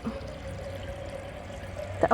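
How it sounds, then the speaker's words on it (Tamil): Water running from a pipe into a vessel, filled for Pongal at an outdoor spot near a main road, a steady soft pouring with a faint hum beneath and a brief clatter at the end. "பொங்கல் வைக்கிறதுக்காக தண்ணி பிடிச்சிட்ருக்கோம்."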